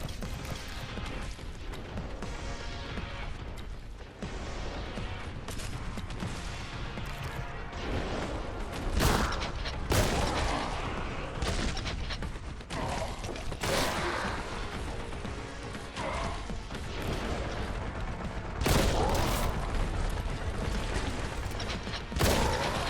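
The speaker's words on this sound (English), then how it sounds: "shotgun" Shotgun blasts in Warhammer 40K: Boltgun, several loud sharp booms spaced irregularly through a busy stretch of mechanical clatter and combat noise.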